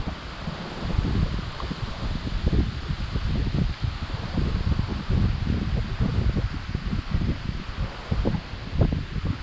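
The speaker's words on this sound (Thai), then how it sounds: "พี่น้องได้ยินบ่เสียงลม" Wind blowing steadily outdoors by a river during fishing with a lift net, a loud continuous rushing roar with gusty buffeting against the microphone throughout.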